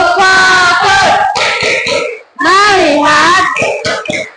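Elementary school children in a classroom loudly chant a rhythmic clap routine in unison, with short bursts of sharp hand claps between the chanted phrases.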